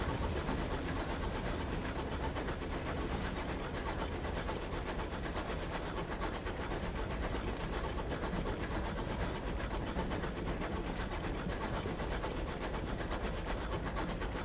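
A steam locomotive in Sunless Skies rolls on with a continuous low rumble and faint rhythmic chugging, steady and moderately quiet from start to finish with no voices.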